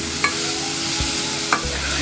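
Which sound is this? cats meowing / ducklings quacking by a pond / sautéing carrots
sautéing carrots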